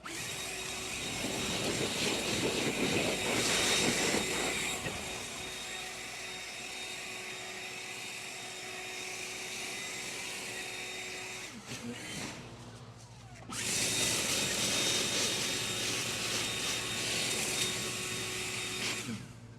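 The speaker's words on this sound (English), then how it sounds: "Now this is on just regular mode time, which is max run time," A handheld battery leaf blower in regular mode without turbo, blowing leaves over pine straw in a yard, whirs loud and steady close by, with a brief dip in the middle before it surges back to full speed.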